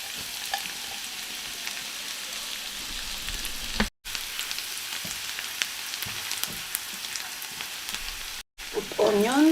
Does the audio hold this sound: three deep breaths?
no